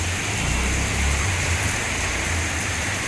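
A steady downpour of heavy rain driven by strong wind during a sudden storm in Kutch, broadband hiss with low gusty rumbling swells, near and continuous, no talking.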